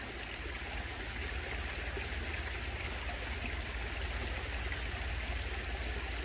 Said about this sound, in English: The water's just flowing.